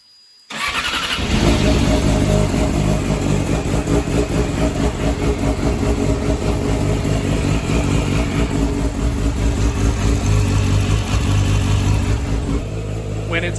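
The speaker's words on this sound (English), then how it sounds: "When you do need a valve adjustment, it lopes and it's rough and it's gritty." A Yamaha R6 motorcycle engine in need of a valve adjustment fires up after a brief quiet moment, then runs loud and close with a rough, loping idle that holds steady for over ten seconds.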